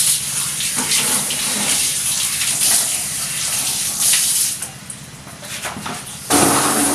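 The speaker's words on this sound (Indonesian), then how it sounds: "Cuci embernya." Running water gushes steadily as a bucket is washed at a mosque, a loud, continuous splashing stream that dips briefly near the end and then surges back.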